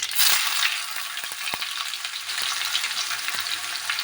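Chopped onion fries in hot oil spiced with cumin, carom and radhuni seeds, a loud, steady crackling sizzle with a few light scrapes and taps from stirring.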